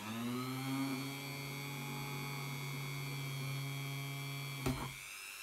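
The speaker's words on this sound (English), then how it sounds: "I'm going to have to resort to a Dremel" A Dremel rotary tool drilling holes whines with a steady high-pitched motor hum and strong tonal drone, running continuously for about five seconds before a sharp click near the end.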